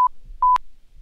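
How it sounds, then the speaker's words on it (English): Electronic sensor beeping: a short clear beep, a brief pause, then a longer sustained beep, close and crisp, with no one talking. "Sensor beeps."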